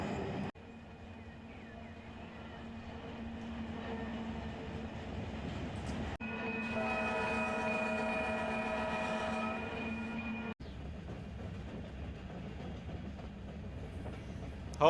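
A simulated freight train with a caboose reverses toward a siding in Run8 Train Simulator, producing a steady mechanical rumble and drone with a brighter, tonal squeal in the middle before it drops back to a low hum.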